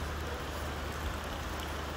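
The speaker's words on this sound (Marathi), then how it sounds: "हा पाऊस मी पहिल्यांदा बघितलेला आहे." Heavy monsoon rain during a red alert in the Maval and Mulshi area of Maharashtra, a steady dense broadband hiss of downpour that holds even and loud throughout with no voices.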